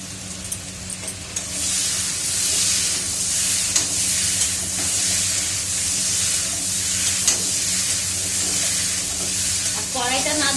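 Potatoes sauté in ghee in a wok, giving a steady, dense sizzle and hiss across the whole stretch, broken by faint stirring scrapes and a brief burst of sputtering near the end.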